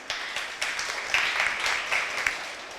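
Audience applause at a Marathi talk on television history, a steady wash of clapping from many hands with a few sharper individual claps, moderately loud and continuous throughout.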